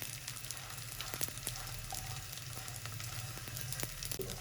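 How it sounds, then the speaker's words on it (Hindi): Edible gum (gond) fries in hot ghee while being stirred, a continuous soft sizzle with faint scraping clicks from the spoon, quiet and steady throughout. "और इसको हिलाते रहना है, छोड़ना नहीं है। ये भी 1 मिनट के अंदर फ्राई हो जाती है।"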